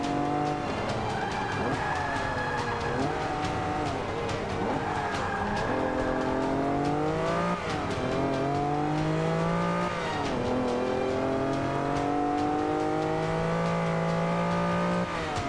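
Race car engine in Forza Motorsport 5 on Xbox One, revving through gear changes with rising and falling pitch and tires squealing in corners, loud and continuous for the whole stretch with no talk.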